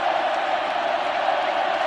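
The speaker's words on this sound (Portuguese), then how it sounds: "Torcida do Flamengo mostra o seu grito de guerra" Flamengo fans in a stadium chant their battle cry during a Brasileirão match against Goiás, a steady, dense roar of massed voices that holds at an even level throughout.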